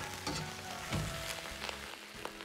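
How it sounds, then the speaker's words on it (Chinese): Lamb ribs stir-fry in a hot wok, giving a faint, steady sizzle broken by a few soft scrapes and clinks of the spatula. "煸炒大概三分钟左右，炒至羊排表面稍微焦黄"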